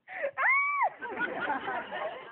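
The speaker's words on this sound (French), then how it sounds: "Regarde, elle va te montrer comment elle crie, regarde." A woman on a French TV talk show gives a short demonstration scream, a rising sustained wail about half a second long, followed by loud studio chatter and laughter.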